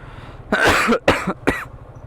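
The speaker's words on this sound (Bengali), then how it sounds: "সরি 2-3 দিন যাবত আমার এই কাশিটা আমাকে অনেক ভোগাচ্ছে" A man with a cough that has lasted several days coughs three times in quick succession, loud and close, with a brief pause between each.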